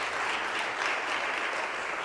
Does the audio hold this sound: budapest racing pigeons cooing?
no